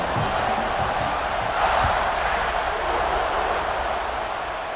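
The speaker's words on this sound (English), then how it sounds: "this crowd is feeling themselves after that last drive" A stadium crowd roars in College Football 26 as the kickoff unit takes the field, a dense, steady wash of distant cheering that swells briefly and holds throughout, with no clear voices above it.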